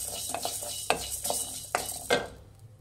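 Dried red chillies frying in a pan, with several sharp stirring scrapes of a spatula against the metal over a steady background hiss, close and fairly quiet.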